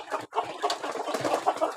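Chickens at an evening feeding, a flock of young gamecock stock, cluck and chatter continuously at close range, with overlapping calls and a brief pause near the start.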